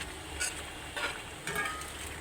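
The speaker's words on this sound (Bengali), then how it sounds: "এই যে আমি উইন্সের মাংসগুলো ভালো করে সিদ্ধ করে নিচ্ছি।" Chicken wing meat boiling in a pot, a steady soft bubbling and simmering hiss with a few brief louder bursts, fairly quiet and close.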